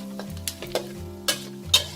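Chinese sausage sizzles as it fries in a pan for a Thai shrimp-paste rice dish, with steady frying hiss and several sharp utensil scrapes and taps as it is stirred. No one speaks.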